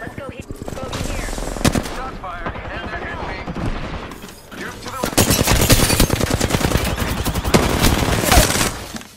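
Enemies in a video game open fire with sustained, rapid machine-gun bursts, loud and close, with rattling volleys that pause briefly before a denser, heavier barrage. A voice speaks at times beneath the shooting.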